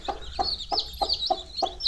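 A free-range village hen that has just hatched a brood of chicks clucks in a steady rhythm, six evenly spaced short clucks, close and clear with no other voices.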